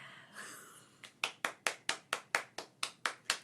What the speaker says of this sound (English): We'll have canned applause